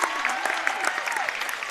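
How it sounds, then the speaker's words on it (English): A crowd erupts in cheers and applause at a girls' high school basketball game on senior night, a dense, loud roar filling the gym throughout, close and continuous. "see the crowd erupting there for the senior"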